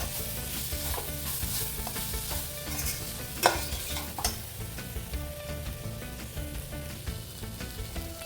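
Chopped tomatoes and green chilies sauté in a pan for chicken curry, giving a soft, continuous sizzle. A low rumble sits beneath it, and a couple of sharper clacks come from stirring partway through.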